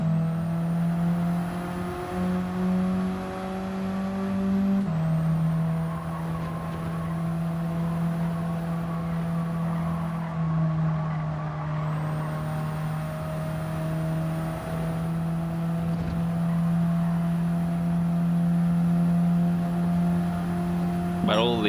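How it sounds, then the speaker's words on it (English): Small cars' engines drone and rev loudly in the racing game Gran Turismo 7, a steady high-pitched whine holding pitch with occasional gear shifts, continuous and close throughout. "But all these smaller cars are very loud though"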